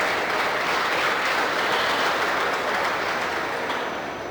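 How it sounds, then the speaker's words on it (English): Broad, steady applause from a county fair swine show crowd thanking the volunteers, a dense continuous wash of clapping filling the space and tapering slightly at the end. "Let's give those guys that did all the help and volunteered a big round of applause."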